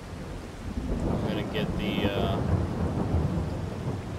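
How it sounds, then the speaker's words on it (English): Rain and thunder from the Farming Simulator 22 game set in Bucks County, Pennsylvania: a steady wash of rainfall with low rumbling thunder throughout, brief bright in-game tones partway through, and a voice speaking over it. "We're gonna have to wait for the rain to stop."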